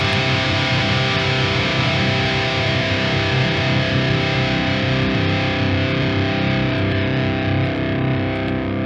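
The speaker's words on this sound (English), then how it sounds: "I'm going to ring out my guitar, and then I'm going to turn this on and off, and we'll see how the decay, the distortion decay sounds." Electric guitar left ringing out through a Quad Cortex with heavy distortion, a dense sustained chord that holds loud and steady, then slowly thins as its top end fades over several seconds.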